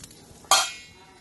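A single sharp metallic clink of a pan being handled as a vegetable cheese omelette is flipped, fading quickly after the hit against a quiet background.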